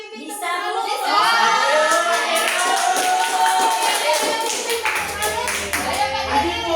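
A group of parents in an Indonesian parenting class session claps a rhythmic "tepuk salut" clap chant, sharp rapid patterned claps mixed with voices calling and talking over them, near and fairly loud.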